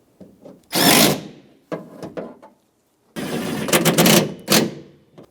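Two 10mm bolts driven into a 2007-2015 Mazda CX-9 exterior door with a power tool, in several loud, close whirring bursts separated by short pauses.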